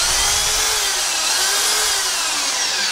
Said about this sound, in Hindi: अभी यहाँ पर मैं इस मकीटा के ड्रिल को इसके ऊपर चलाकर देख लेता हूँ।